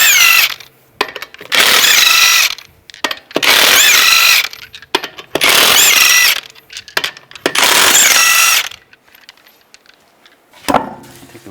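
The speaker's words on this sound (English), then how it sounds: "remove the lug nuts." A ratchet fitted with a 22mm socket spins off the lug nuts on a 2010-2017 Chevrolet Equinox wheel, five loud bursts of rapid mechanical whirring roughly a second apart, then a short sharp clank near the end.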